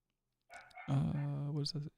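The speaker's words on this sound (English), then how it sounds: "I don't know what he's fucking barking at." A dog barks and growls in a drawn-out, voiced run of about a second and a half, fairly close and fairly loud, with no talk over it.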